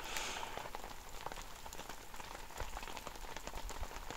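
Heavy, torrential rain falls steadily, a dense close hiss of drops pattering on surfaces throughout, with no voices.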